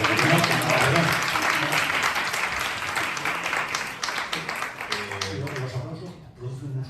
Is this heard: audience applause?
yes